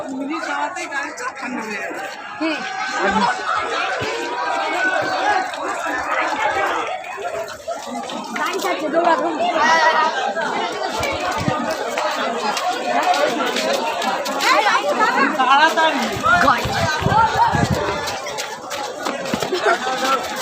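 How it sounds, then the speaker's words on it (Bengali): Dense crowd chatter at a packed Durga Puja pandal, many overlapping voices close around, loud and continuous throughout. "আর প্রচুর ভিড় আছে, এই বাইরে পর্যন্ত ভিড়"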